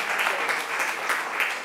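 A class audience in a lecture room breaks into a short burst of applause, a brief spell of steady, moderately loud clapping from many hands.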